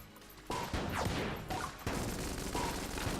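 Shots from the mahogany gun in Enter the Gungeon burst in after a quiet start, rapid repeated cracks with sharp bangs and crashes layered over game effects, loud and dense throughout.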